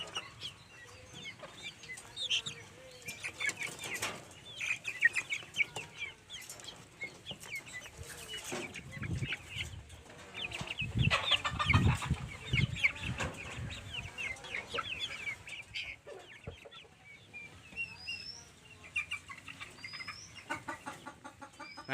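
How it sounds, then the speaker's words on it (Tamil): Chickens, including small chicks, cluck and peep continuously at a farm house, a busy, fairly close flock with overlapping calls throughout and no talking. "இங்கே வந்து இந்த கோழி, இங்கே இந்த குட்டி கோழி, வாத்து"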